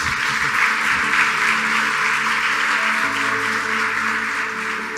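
Church congregation applauding during a sermon, a steady wash of many hands clapping at a moderate distance, continuous and fairly even throughout with no speech over it.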